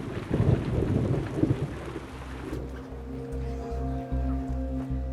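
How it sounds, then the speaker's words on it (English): A thunderstorm near an RAF airfield: heavy rain hisses steadily with rumbling thunder, then the rain thins as a low steady engine drone with rhythmic pulses takes over. "a thunderstorm has struck"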